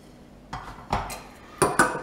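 A spoon clinks against a bowl while oyster mushroom cutlet ingredients are mixed with salt, pepper, garlic olive oil, paprika and dill. Four sharp, close taps come in two pairs over a quiet background.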